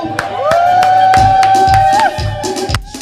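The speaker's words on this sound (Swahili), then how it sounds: "Wapi shangwe na vigelegele kwa Yesu" A church congregation cheers and lets out a long, high, sustained ululation for Jesus, with rhythmic beats and crowd noise underneath, the trill rising and holding for about two seconds before dropping away.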